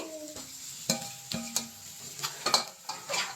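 Boiled egg masala frying in a pan, with intermittent stirring scrapes and knocks of a utensil against the pan over a soft sizzle, close and moderately quiet, no talking.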